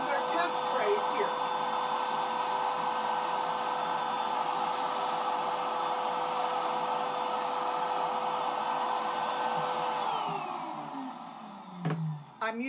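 A Wagner small furniture paint sprayer runs with a loud, steady, vacuum-like whine, then winds down near the end, followed by a few brief handling knocks.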